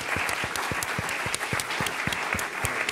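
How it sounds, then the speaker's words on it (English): Audience applause for panelists after a talk on democracy, a brisk mix of clapping with some sharp individual claps standing out near the listener, steady and fairly loud throughout. "I would like to have one big applause for the three panelists"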